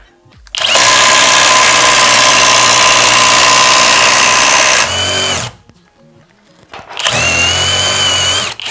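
A Worcraft CIS-S20LiB cordless impact driver bores through a 90 mm wood beam with a wood bit, a loud steady whine for about four seconds, a brief pause, then a second burst.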